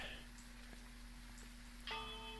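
A bell rings at a lighthouse door in a spooky video game, one bright metallic ding near the end after a quiet, ticking stretch.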